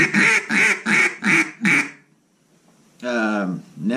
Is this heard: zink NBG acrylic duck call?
yes